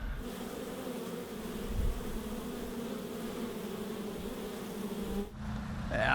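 A swarm of honey bees buzzes around a felled tree in a country yard, a dense steady droning hum throughout, briefly dropping before a louder close-up buzz at the end.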